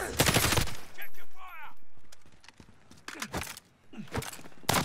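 Gunfire erupts in Call of Duty: Modern Warfare, with sharp bursts of shots at the start and again toward the end and quieter game sounds in between.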